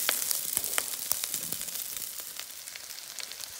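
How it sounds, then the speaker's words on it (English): Ginger and garlic frying in hot oil in a pan, a close, continuous crackling sizzle with scattered sharp pops that slowly eases in intensity. "So first I'm gonna add the ginger and the garlic."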